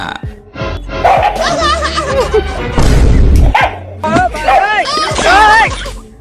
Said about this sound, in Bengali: এবার দেখুন কুকুর আর মোরগের বিখ্যাত এক লড়াই